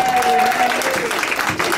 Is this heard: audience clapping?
yes